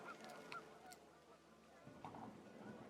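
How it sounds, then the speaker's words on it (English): Geese in the game What Remains of Edith Finch honk in a panicked flurry over a busy, noisy background, several overlapping calls at moderate distance, with a rougher burst near the end. "panicked geese appeared and quickly went"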